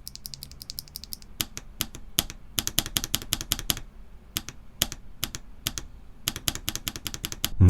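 Bursts of rapid typing on a mechanical keyboard with poppy switches, sharp crisp clacks in quick uneven runs with short pauses between, close up and loud, with no speech.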